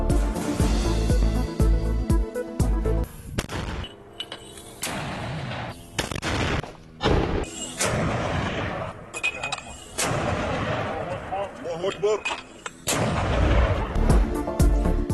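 Heavy mortar shelling and gunfire: repeated loud booms and bursts of shots, with voices shouting between them, close and continuous.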